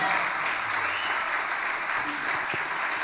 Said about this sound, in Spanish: dale palmas fuertes y alabanza al Espíritu Santo